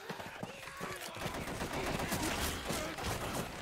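Rapid gunfire from the Left 4 Dead 2 video game crackles continuously and loudly, dense overlapping shots forming a sustained barrage with no clear pauses.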